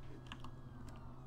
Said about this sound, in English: He's typing something,